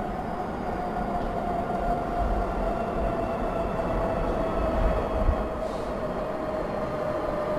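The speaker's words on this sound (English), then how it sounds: "it sounds like we're getting on the train to go to work" A train in the video game Paranoid rolls along its rails with a steady, loud rumble and a constant hum, continuous and unbroken, with no voices over it.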